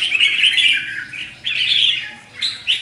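A bantam rooster gives loud, close squawking calls in three bursts with short gaps, standing alone with no talk around it.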